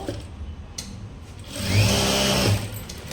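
A sewing machine stitching a lining blouse, running in a steady whirring burst for about a second before stopping, close and fairly loud.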